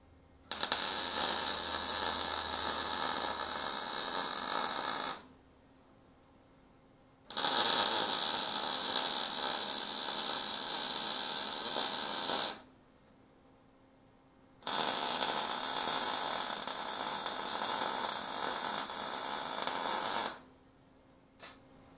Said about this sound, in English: I enjoy welding, so...